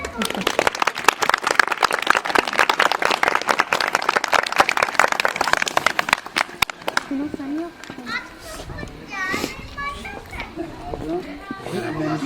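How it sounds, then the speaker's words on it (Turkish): An audience of children and adults at a young writers' event applauds as a man named Mehmet is invited up: brisk, dense clapping for about six seconds that gives way to chatter and children's voices. "Ben alkışlarınızla buraya o amcayı davet etmek istiyorum"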